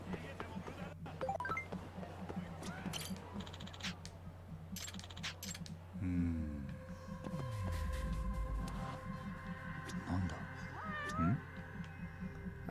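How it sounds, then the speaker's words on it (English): A cat meows repeatedly in the video game Judgment, several clear meows and a drawn-out caterwaul over a low game ambience with scattered clicks and chimes. "Cat. Fucking cat."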